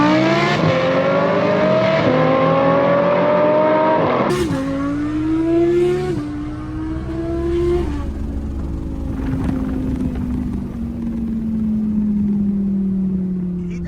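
A Gintani R8 V10+ and an 800 HP RS7 on methanol launch side by side, their engines screaming loud and close as they rev through rapid upshifts, then fading into a falling drone as they pull away.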